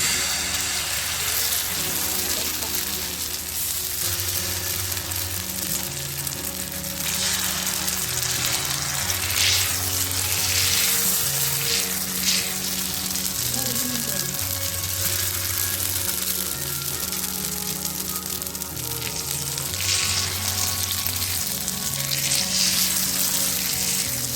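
Potato batter frying in oil on a hot tawa griddle, a steady close sizzle running throughout with faint scraping under it.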